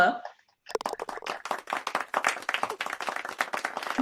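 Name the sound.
golf clap from the crowd in the golf video game WGT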